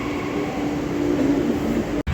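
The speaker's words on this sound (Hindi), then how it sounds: "ये है उत्तम नगर ईस्ट मेट्रो स्टेशन से मेट्रो आते हुए" Metro train arriving at Uttam Nagar East station in the early morning, a steady rumbling rail drone with a faint tonal whine, fairly close, cutting off abruptly near the end.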